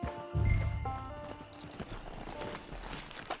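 Horse hooves clip-clop in a quick rhythm in Red Dead Redemption 2 Online, with a brief whinny near the start and a soft musical backdrop.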